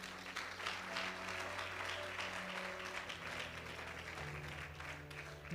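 A church congregation applauding for the Lord during a sermon, sustained clapping from the crowd over a steady sustained keyboard chord that holds underneath throughout.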